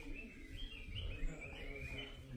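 Small birds chirp at the Hanuman Tok temple in Sikkim, a run of thin, high tweets over a steady outdoor hush with faint wind, moderately distant and fairly quiet.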